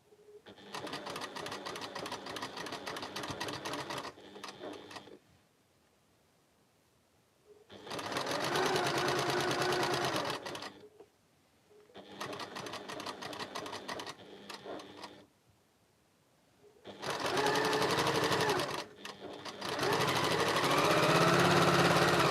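A sewing machine stitching a quilt block seam in four loud, rapid bursts of several seconds each, separated by short quiet pauses.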